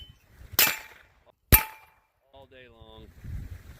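Two sharp suppressed Glock 9mm pistol shots through a Dead Air Wolfman suppressor ring out about a second apart, followed by someone speaking.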